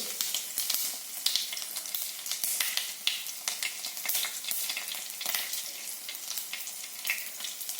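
Mustard seeds and garlic cloves fry in hot oil for a Tulu Nadu style stir-fry, giving a steady crackling sizzle with scattered sharp pops, close and continuous with no voices.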